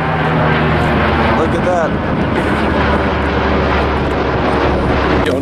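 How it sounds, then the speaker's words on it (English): A low-flying fixed-wing airplane roars loudly overhead, and its engine drone fills the whole stretch while someone speaks briefly over it. "That plane is flying a little low."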